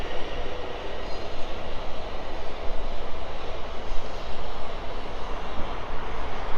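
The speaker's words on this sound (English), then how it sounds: "there's another train about to fly through behind this one" A fast tilting train rushes through Farnborough Main station on the South Western Main Line, a loud, steady broadband roar of wheels and motion that fills the whole stretch without pause.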